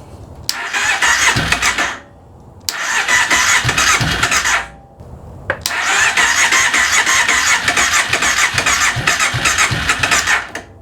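A Kawasaki Prairie 700 ATV, revived after sitting 17 years, cranks in three loud close bursts, its engine churning and catching roughly before each attempt cuts out into short pauses.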